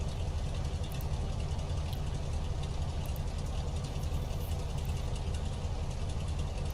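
A Carenado aircraft engine idles in a flight simulator game, giving a steady, unbroken low drone with no talk over it.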